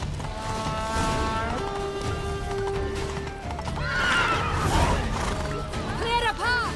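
A galloping horse neighs loudly in the video game The Witcher 3, its hoofbeats drumming under voices talking and shouting, with a sharp whinny near the end.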